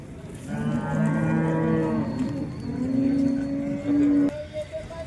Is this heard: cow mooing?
yes